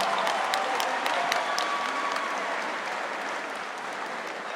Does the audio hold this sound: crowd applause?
yes